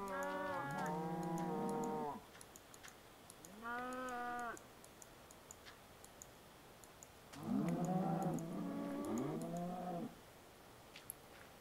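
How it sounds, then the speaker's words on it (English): Cattle in a video game give three separate drawn-out moos with quiet gaps between, the last two overlapping; clean and close with faint ticking in the background. "got some cows on the go, which is good."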